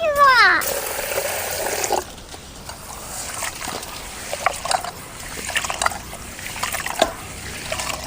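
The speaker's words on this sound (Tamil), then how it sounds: "தண்ணி ஊற்றி நல்லா கழிஞ்சி எடுத்துக்கணும்." Water is poured over green gram in a pot, and the beans are rinsed by hand. A sharp pouring splash opens, then softer sloshing and trickling follow, close and continuous.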